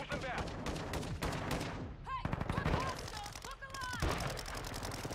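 An automatic weapon in a video game fires rapid bursts, fast regular cracks in several strings with short pauses, loud and close, with a voice speaking in between.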